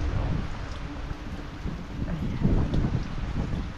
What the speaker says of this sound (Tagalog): patuloy pa rin ang pagulan